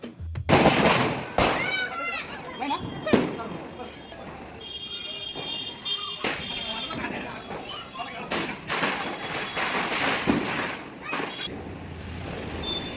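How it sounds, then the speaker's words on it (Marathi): Firecrackers burst during a family Diwali celebration outdoors: loud sharp bangs and rapid crackling strings, with whistling rockets and fizzing between them and people talking nearby. "काही फटाके आत्ता वाजवले आणि काही जेवण झाल्यानंतर वाजवले"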